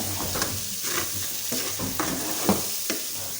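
Egusi (ground melon seed) being stirred as it fries in a pot for egusi soup, with a steady low sizzle beneath repeated scraping strokes of the spoon against the pot at an uneven rhythm, close and moderately loud.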